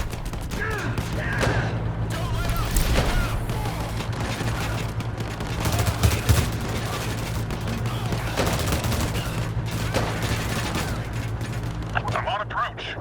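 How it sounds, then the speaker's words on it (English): Sentry gun firing in a video game, a sustained stream of rapid gunshots with occasional heavier booms and mechanical clatter, loud and close, with voices talking over the battle. "Sentry gun set up."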